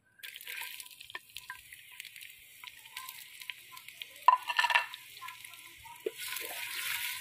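Two onions go into a cup of hot oil, giving a soft, fairly faint crackle and hiss that swells into a sharper burst of sizzling midway, then settles before rising again.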